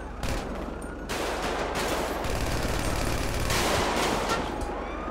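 Bursts of gunfire in the police video game FivePD, loud rapid volleys of shots in several sustained stretches with short gaps between them, no talking.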